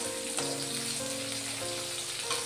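Tomato goes into chopped onions frying in oil with dried chili and nigella seeds, giving a quiet, steady sizzle with no talking.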